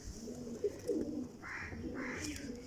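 Low, soft coos of a Golden Teddy mix pigeon repeat a few times close by, with faint higher bird chirps over a steady outdoor hum.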